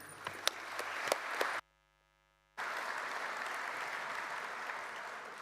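An audience claps steadily at a union congress. The applause is a dense, even wash that cuts out briefly and then resumes at the same level, with no talk over it.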